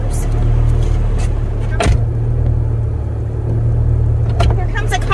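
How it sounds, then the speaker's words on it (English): A steady engine rumble of a car passing close on a Florida road, with people talking over it and a few sharp knocks. "Here comes a car."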